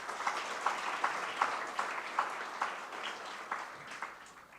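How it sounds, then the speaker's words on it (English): Audience at a first-year B.Tech induction and orientation program claps in a fairly steady, rhythmic beat, moderately faint and heard from a distance, with no voices over it. "Let's acknowledge their presence with a round of applause"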